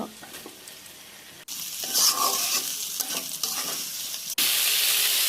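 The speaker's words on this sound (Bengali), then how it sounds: "পেঁয়াজ, রসুন, সঙ্গে পরিমাণ মতো লবণ এবং হলুদ দিলাম। পরিমাণ মতো মরিচের গুঁড়া দিয়ে কষিয়ে" Onion, garlic, turmeric, salt and chili powder sautéed in a pan, with a loud, steady sizzle and repeated scraping of a spoon against the pan, broken by abrupt cuts.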